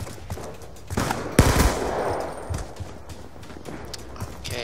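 Scorpion submachine gun fire in Call of Duty Black Ops 2 gun game on Xbox 360: bursts of rapid, clattering shots, loudest around the middle, with lighter scattered impacts and game noise before and after.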